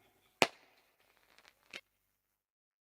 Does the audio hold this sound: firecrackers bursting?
yes